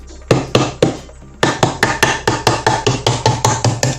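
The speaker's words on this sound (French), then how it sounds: "mettre des petits coups de marteau sur votre pince" A hammer taps repeatedly on pliers pressed flat against the cut ends of wire mesh while building an insect hotel: sharp metallic knocks, a few spaced strikes then a steady run of about a dozen quick, even blows, close and loud.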